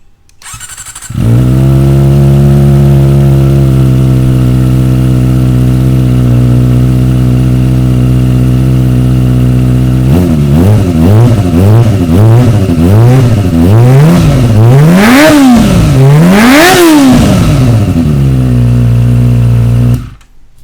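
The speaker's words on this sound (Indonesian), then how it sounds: "kita dengarkan suara dari Akrapovic waktu di di luar kayak gini ya, di outdoor" A Kawasaki motorcycle with an Akrapovic exhaust idles outdoors with a steady, loud drone, then is revved repeatedly in rising and falling bursts, the last blips sharper and higher, before the engine cuts off.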